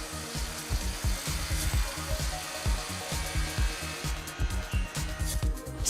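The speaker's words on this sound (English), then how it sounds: "Automated grinders sweep along the walls of the tub, sanding down any rough surfaces." Automated grinders sanding a bathtub on a factory assembly line, a loud rhythmic rasping that pulses in quick repeated strokes over a constant whirring machine hum.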